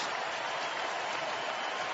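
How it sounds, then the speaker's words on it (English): Baseball stadium crowd at a 2015 NLCS playoff game rising to its feet and waving white towels, a steady broadband roar of cheering and clapping that fills the whole stretch at an even, sustained level. "gets the support of the crowd coming to its feet and waving those white towels"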